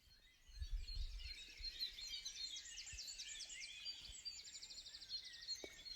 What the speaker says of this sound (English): All of the birdsong you've heard in this episode was recorded by Gwen in her back garden.